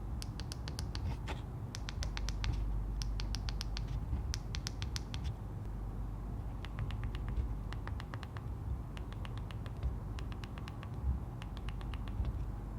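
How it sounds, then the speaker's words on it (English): Buttons on a Google Pixel 9 Pro XL phone clicking loosely, repeated sharp little clicks in rapid clusters of three to six, close and crisp over a low steady background hum. "The Pixel gives a noisy clicking sound"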